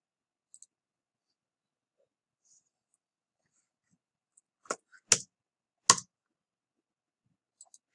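A few sharp, isolated computer mouse clicks while drafting in AutoCAD, three distinct close clicks around the middle with tiny faint ticks at the start and end, otherwise near silence and no voice.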